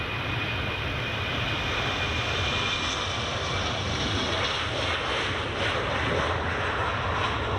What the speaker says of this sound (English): Oh, it's the Air France way. And the Lufthansa. Just taxiing along nicely there.